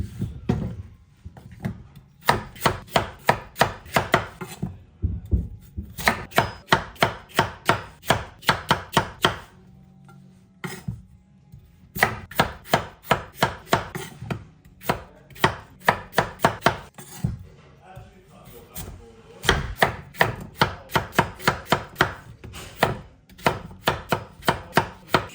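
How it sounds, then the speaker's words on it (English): Red potatoes chopped into small pieces on a board, fast rhythmic knife thuds in several runs separated by short pauses, close and loud. "I'm chopping them to the size I want the finished sabji in"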